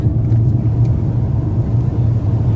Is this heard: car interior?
yes